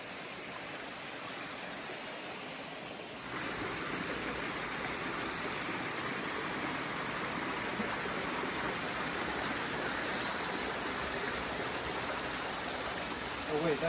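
A river rushes in a constant broad roar, its flowing water growing louder a few seconds in and then holding steady, with no voices.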